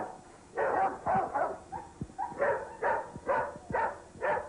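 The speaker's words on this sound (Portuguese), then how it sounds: "demonstra como o cão pode ser agressivo e dócil ao mesmo tempo" A trained guard dog barks in a run of about eight sharp, evenly spaced woofs, close and loud, with brief pauses between bursts and no talking.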